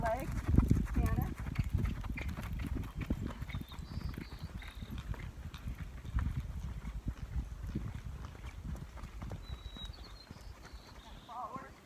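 A gaited horse cantering, hooves clip-clopping in a steady rolling rhythm close by throughout, with a voice heard at times.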